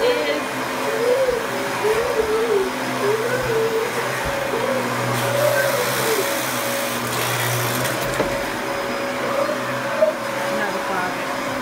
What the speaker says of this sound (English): where my mom is vacuuming